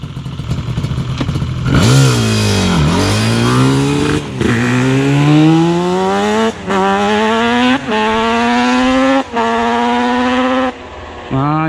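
A Yamaha Banshee ATV engine revs hard and accelerates through several gear shifts, each rising whine cutting off briefly before climbing again, loud and close.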